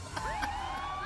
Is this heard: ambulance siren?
yes